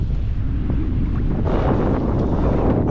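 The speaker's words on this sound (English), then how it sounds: "Windy day." Strong wind buffets the microphone outdoors by the water at Pigniq while a fishing net is checked, a loud, steady low roar with gusty swells that runs the whole time without let-up.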